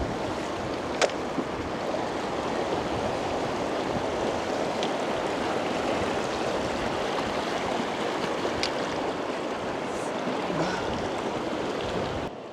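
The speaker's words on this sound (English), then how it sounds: "There's a decent amount of flow, so you should know the right technique on how to cross river streams" Mountain river stream on the Niri Chu in Ladakh, rushing loudly and steadily throughout with a broad, unbroken roar of water and no voices.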